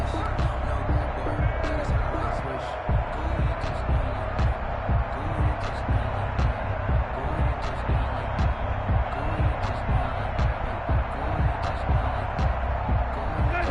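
Continuous stadium crowd roar at an American football video game, a home crowd loud during the snap count, with commentary voices talking over the steady dense noise.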